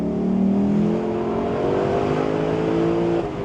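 A Lexus LC500 engine revs hard under acceleration, a loud, steady rising roar with climbing harmonics that holds for about three seconds, then eases briefly at the end.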